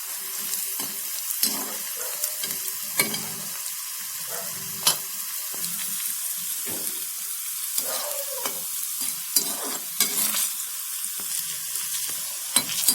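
Garlic fries in oil for chutney with a continuous close sizzle, broken by scattered crackles and pops and occasional stirring scrapes throughout.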